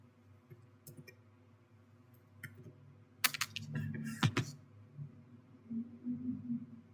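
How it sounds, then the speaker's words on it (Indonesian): A short burst of typing on a computer keyboard during a Git version-control lab session: several quick, close, crisp key clicks in a cluster, with quiet room noise before and after. "Selanjutnya kita akan mengetik ulang."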